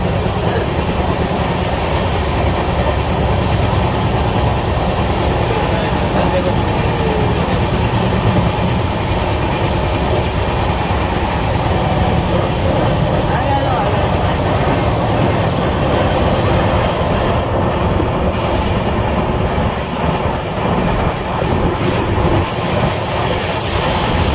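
Train number 19316 running from Ahmedabad toward Ujjain rumbles steadily on the tracks, a loud continuous roar with faint rhythmic clatter of wheels, heard close as from inside a coach.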